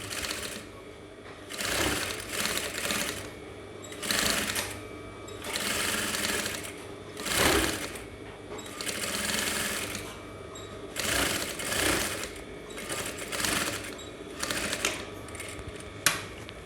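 A sewing machine stitches fabric for an aso-ebi cap in repeated bursts of rapid mechanical clatter, each run lasting a second or two, with short pauses between runs.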